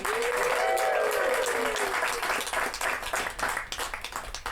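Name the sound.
audience applause for an improv performer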